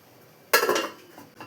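A metal lid clanks down onto a cooking pot of okra gravy, a single sharp clatter followed by a brief rattle and a softer knock, close and alone.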